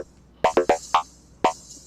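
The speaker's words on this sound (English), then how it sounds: "this is the sound of the elephant" Modular synthesizer patch made to sound like an elephant: a few short, bright, harmonic squealing blasts with a trumpet-like edge, in two bursts separated by a pause.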